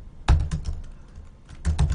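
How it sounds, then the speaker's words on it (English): Kotlin code typed on a computer keyboard: two short bursts of close key clicks, a quick cluster near the start and another toward the end, with a quiet pause between. "So this is one way of typing the code to move to the other activity in Kotlin."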